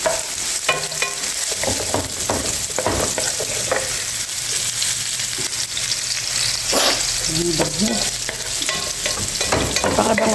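Ginger and garlic sizzle in olive oil in a pan for a spicy chicken dish in coconut milk, a steady close crackle with stirring scrapes and clinks throughout, no talk.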